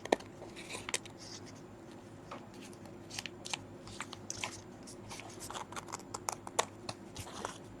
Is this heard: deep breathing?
no